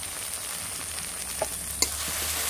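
Okra fries in a pan with salt and turmeric, giving a steady close sizzle punctuated by a couple of sharp clinks from stirring.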